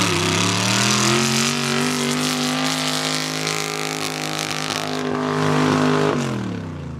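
A mud drag racing vehicle's engine revving hard, a loud, close, sustained roar held for several seconds and then dropping away abruptly near the end, with no talking.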